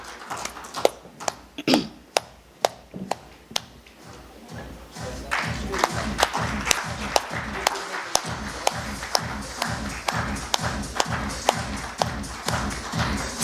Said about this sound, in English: Can we have a big round of applause for him, please?